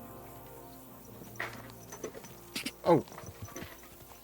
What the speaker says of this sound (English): Good horsey.